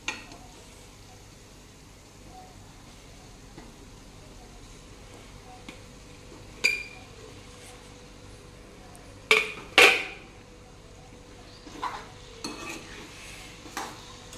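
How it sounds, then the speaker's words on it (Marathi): Chopped wild mushrooms cook with tomato in a pan. A quiet low sizzle is broken by a few sharp clinks and scrapes of a utensil stirring against the pan. "यामध्ये मी आता हे चिरून ठेवलेली अळिंबी घालत आहे"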